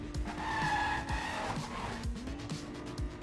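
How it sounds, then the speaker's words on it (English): A car with a custom engine sound in a racing video game, a steady engine tone with tire squeals and repeated low thumps under a commentator's voice. "Yeah, it's a custom engine sound."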